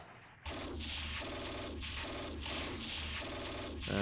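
Infantry gunfire in Steel Panthers sounds as a repeating pattern of crackling volleys, roughly four bursts in a steady rhythm, fairly loud and with no voices.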